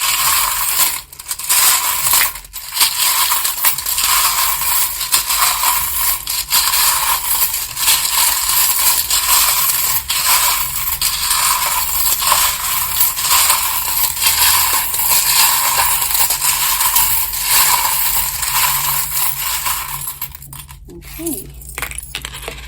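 Continuous loud clattering and rustling of tarot cards being shuffled, a dense crisp rattle that runs steadily for about twenty seconds before briefly easing near the end.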